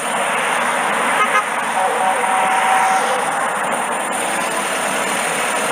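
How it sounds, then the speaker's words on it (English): Cars race past on a Florida highway in a loud, steady roar of engine and road noise that swells slightly as vehicles pass, with a brief horn-like tone partway through. "Let's get some body footage of the cars racing by."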